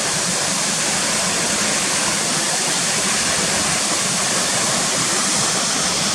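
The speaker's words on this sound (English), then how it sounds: "It's obviously fast coming down here, and all these white water rapids going down towards where the bridge is." A waterfall pouring over drops into fast white-water rapids along a river, a constant, loud, full roar of rushing water with no break or variation.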